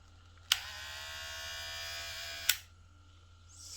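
A Geemy GM 6008 electric shaver, newly unboxed and battery-powered, switches on with a click and gives a steady, close, even buzz for about two seconds before clicking off into quiet.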